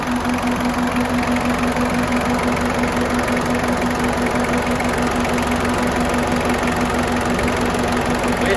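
A large electric radiator cooling fan runs on a Peugeot 205, a loud, steady whirring drone with a constant hum and broadband rush, unbroken and close for the whole stretch, no one speaking.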